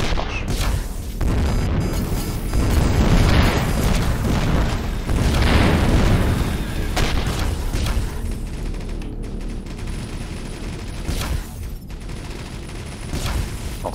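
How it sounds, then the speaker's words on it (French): Explosions and automatic turret fire in the space game Avorion, a dense sustained barrage of booms and rapid bursts that swell loud around three and six seconds before easing into a steady rumbling clatter. "Et mes tourelles automatiques, tirent dessus."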